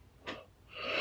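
A person yawns at close range, a breathy intake followed by a longer, rising exhalation with no speech.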